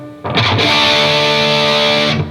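A heavily distorted electric guitar chord on strings five through two, strummed once and left ringing, loud and sustained for about two seconds before cutting off.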